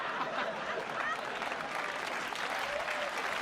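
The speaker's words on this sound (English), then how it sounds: "Applause break for that" A television studio audience at a late-night talk show breaks into dense, sustained applause, near and even throughout, with a few faint chuckles mixed in.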